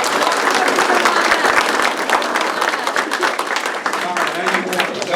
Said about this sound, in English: if you would, please give them another round of applause.